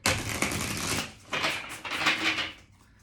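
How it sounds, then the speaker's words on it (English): Rapid papery riffling of cards in several bursts, crisp and close, with brief pauses between shuffles. "I just want to shuffle these and then pick a random card."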